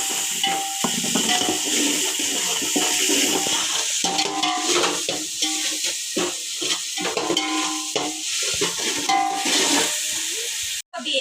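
Ginger garlic paste sizzles in hot oil while a spoon scrapes and stirs it, loud and close, with clattering strokes over the hiss.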